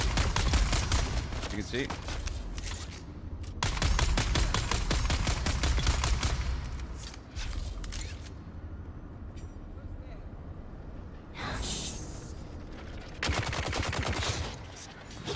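Rapid automatic gunfire from long-range trooper combat in the game Dune Awakening, with bursts of fast regular shots in several stretches, loud and close, while someone talks over the shooting.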